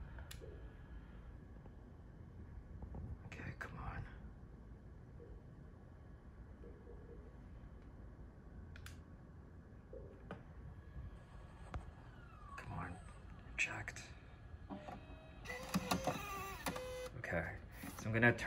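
A Polymega console's CD drive whirs and clicks as it ejects a disc, a faint mechanical sound near the end of a quiet stretch, with a person talking in between.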